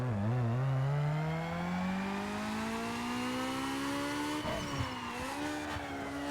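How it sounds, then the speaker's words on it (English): A Honda Civic 1.6-litre B16 inline-four revs up on a dyno in Need for Speed Underground 2 for a drag tune. It gives a loud, steady engine whine that climbs smoothly in pitch, then dips briefly and rises again, with no talk. "let's quickly do a dyno for drag racing"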